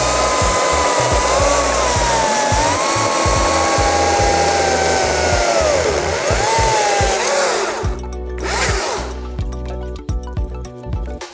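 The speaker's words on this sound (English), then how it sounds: "we start up the chainsaw, we pick a point, and we slowly start taking away material" Chainsaw stripping bark and material from a wooden piece, a loud close whining engine with rising and falling pitch as it bites, then cutting off into choppy bursts and idle near the end.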